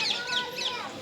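Several birds, chickens among them, call outdoors around a rural home, with clucking and sharp chirps repeating through a steady background of faint bird chatter.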